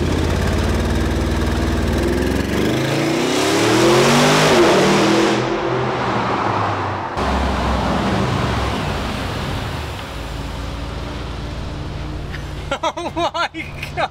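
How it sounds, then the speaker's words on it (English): An Audi RSQ8 launches hard under launch control inside a tunnel, its engine roaring loud and close as it surges up through the revs, the noise booming off the walls before easing back, with a burst of clattering near the end. "So this is a launch in a tunnel."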